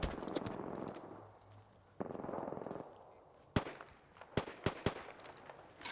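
Gunfire in the Apex Legends battle royale game during a ranked match: a few sharp, loud shots crack out over a low rumbling background, then several scattered blasts land in quick succession near the end.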